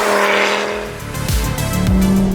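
A Fiat Coupe 20V Turbo five-cylinder engine growls and revs with a raspy, throaty note, rising and falling as it accelerates past, with a brief tire chirp.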